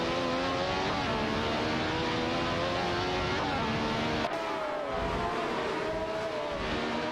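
AI-driven race cars in a racing video game hold a loud, high-revving engine drone for several seconds, with a slight shift in pitch and level near the end as the cars pass.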